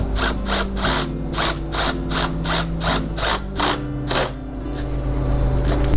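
A ratchet tightening bolts on a Talaria supermoto, a run of about ten quick, evenly spaced metallic clicking strokes close up, then a few lighter taps as it stops.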